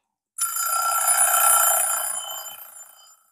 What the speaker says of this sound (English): Let that physical event be the sounding of an alarm.